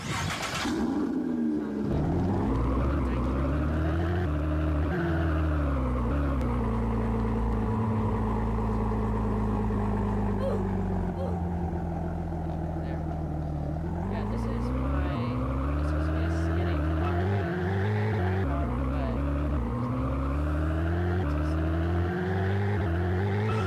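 A car driving in Roblox Vehicle Simulator holds a continuous engine drone that rises and falls in pitch as it revs, loud and steady throughout.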